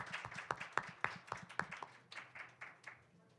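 A small group clapping, a few sharp claps standing out over softer scattered hand claps, fairly faint.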